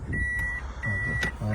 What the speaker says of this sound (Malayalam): റിവേഴ്സിലേക്ക് ഇങ്ങനെ സൗണ്ട് വരും